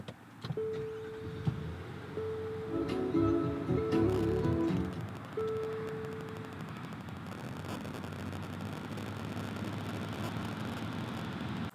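A 2022 Infiniti QX60 Sensory AWD starts by push button, giving chimes and a brief cranking burst before the engine settles into a low, quiet idle, heard close from inside the cabin with no voices.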